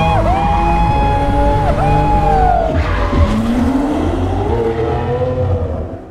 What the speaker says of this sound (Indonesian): terlihat mobil sport berwarna kuning melaju sangat kencang melewati para pengemudi